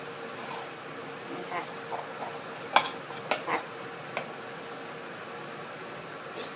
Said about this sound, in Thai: ใจเย็นๆนิดนึงนะคะในการผัด ผัดเนื้อปลาให้หอม